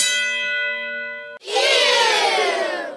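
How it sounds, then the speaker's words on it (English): A bright bell ding sounds as a comedic sound effect on a talk show's creepy meter. The clear ringing tone holds for over a second, then cuts into a louder, noisy burst. "You just rang the bell on the creepy meter with that."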